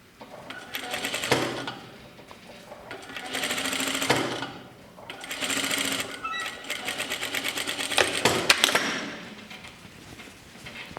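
A sewing machine stitching a shirt seam runs in several loud, rapid rattling bursts, each a few seconds long, separated by brief pauses and close to the listener.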